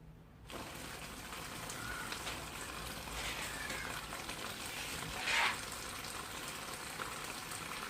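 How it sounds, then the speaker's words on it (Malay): Tap water pours into a canvas fish pond, a steady hissing, splashing gush starting abruptly and running continuously at low level, with a brief louder splash partway through. "Sekarang ni saya akan mula masukkan air paip ke dalam kita punya"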